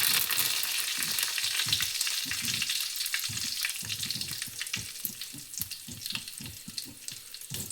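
Whole spices and curry leaves — peppercorns, cumin seeds and curry leaves — crackle in hot oil, with a steady high hiss and irregular close pops and spits running throughout, no voices.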